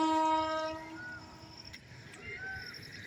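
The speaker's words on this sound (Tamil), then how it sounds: "பாருங்கள் ட்ரெயின் போயிட்டுருக்கு" A train horn sounds a long harmonic blast, then a nearby train rumbles past with faint clatter and a shorter horn call in the distance, in Namakkal district, India.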